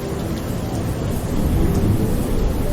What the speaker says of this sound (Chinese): 然后再配一个雨声，雨的声音很大